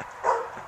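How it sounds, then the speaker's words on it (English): A dog in a snowy outdoor setting gives a single short bark or yip, brief and moderately faint. "Oh, doggy."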